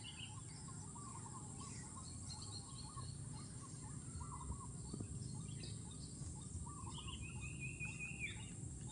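Birds chirping and calling in outdoor countryside, faint repeated tweets and a few longer whistled notes over a steady low rumble of background noise, with distant insects.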